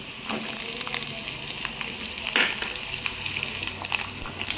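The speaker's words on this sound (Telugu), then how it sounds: "ఇప్పుడు ఈ పల్లీలతో పాటు మిర్చి కూడా మంచిగా వేగుతుందండి" Peanuts and chopped green chillies frying in hot oil for peanut chutney, a steady close crackling sizzle with occasional pops and stirring sounds, continuous and fairly loud, no talk.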